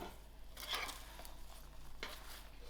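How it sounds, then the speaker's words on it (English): Caramel-coated popcorn is mixed in a pan on a switched-off stove, giving a soft, faint scraping and rustling with a few light clinks, close by and with no talk. "I'm even going to switch the stove off and continue mixing the"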